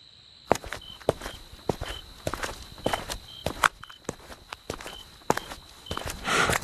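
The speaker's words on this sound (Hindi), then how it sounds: "तभी अचानक कदमों की आहट सुनाई दी।" Slow, deliberate footsteps pacing across a hard floor, about a dozen distinct thuds in an uneven rhythm, close and clear against a faint high tonal hum in an eerie, quiet night setting.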